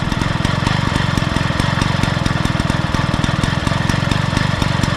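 The small engine of a 1960s Raleigh Wisp moped with a noisy clutch bearing runs steadily up close, a loud, fast, even chugging with a rattling edge and no voices.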